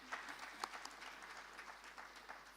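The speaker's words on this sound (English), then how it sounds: "A round of applause for our" Faint, diffuse applause from an audience at a national child protection conference, thanking the panelists as a session ends. A steady patter of scattered clapping is heard at a distance, with no voices.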